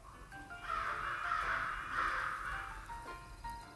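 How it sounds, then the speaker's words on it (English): Crows caw repeatedly in the game Love and Deepspace, a few harsh calls close together, clear over a soft background hiss. "just as crows fly above us."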